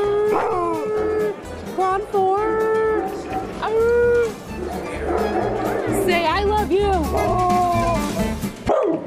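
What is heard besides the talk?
dogs howling and barking at a TV dog show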